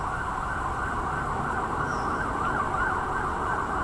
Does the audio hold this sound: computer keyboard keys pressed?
no